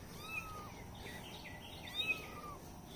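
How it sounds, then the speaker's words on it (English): Baby kittens meowing outdoors, several faint, thin, high cries spread through the moment, with two quick mews close together toward the end over a low background hiss. "I got baby kittens out here meowing at me"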